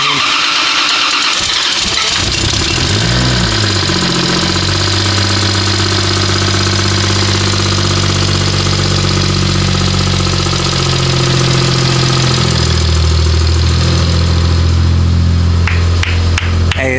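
Steady, loud idle of a 2JZ-swapped Nissan 370Z engine with a deep rumbling low end that wavers slightly throughout, heard up close with no talk over it.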